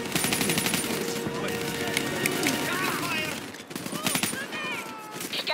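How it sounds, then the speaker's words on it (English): Sustained automatic gunfire rattles in a Call of Duty: Black Ops 3 battle, dense bursts of cover fire running nearly unbroken, close and loud, with shouted voices in the mix. "Give me some cover fire"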